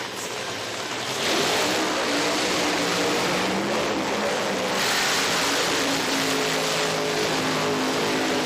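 Nitro funny car at an IHRA national drag racing event, its engine a loud sustained roar that swells partway through and stays heavy, with brief surges, heard from a distance with no talk.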